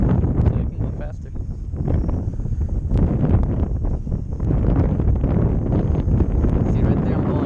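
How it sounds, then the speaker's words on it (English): Strong gusty wind buffeting the microphone during a test flight of a Visuo XS816 drone, a loud, uneven rumbling roar that surges and eases throughout. "I'm going against the wind. The wind is coming from my left side."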